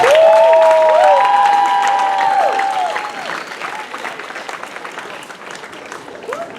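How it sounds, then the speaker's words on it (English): An audience at a live stage hypnosis show breaking into loud applause with some cheering and whistles, the clapping gradually thinning out to scattered claps. "Give her a round of applause, folks"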